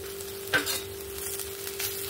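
Fried fish and boiled mashed potato are mixed together for fish cutlets, one distinct scrape of a utensil followed by soft, dull stirring noises over a low steady hum.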